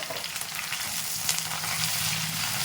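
Chicken fry with coriander stems crackles and sizzles in a hot pan, a continuous close frying hiss with light stirring movement, moderately loud and free of speech.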